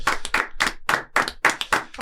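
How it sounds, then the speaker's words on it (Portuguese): A small group of people claps on a café talk show, giving a short burst of roughly a dozen sharp, close, uneven claps. "Salva de palmas para ela."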